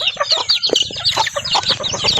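A flock of farm chickens cluck and squawk busily at feeding time, many overlapping close calls in a lively, uneven chatter with no speech.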